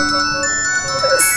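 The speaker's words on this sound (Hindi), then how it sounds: "फोन की आवाज आ रही है" A phone ringtone plays a repeating electronic melody at moderate volume, with some background noise and a brief hiss near the end.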